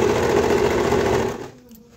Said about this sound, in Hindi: हमने यहाँ से दबाते हुए सीधी सिलाई, इस तरह से हमको मशीन चलानी है।